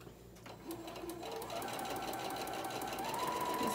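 A home sewing machine stitches a 3/8-inch French seam along a Christmas pillowcase, running as a steady, close, continuous whir with a rising motor tone toward the end.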